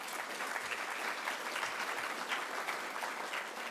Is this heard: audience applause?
yes